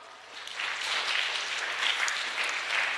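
A church congregation applauds in a steady, broad wash of clapping heard from within the room, sustained throughout without a break.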